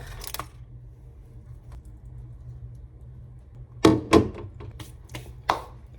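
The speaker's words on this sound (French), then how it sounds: "J'ai quand même essayé de couper une petite part." Knife cutting a small slice of homemade cake, giving a cluster of sharp taps and clicks of the blade meeting a plate or board, close and distinct against a quiet room hum.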